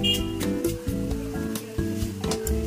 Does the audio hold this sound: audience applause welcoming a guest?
no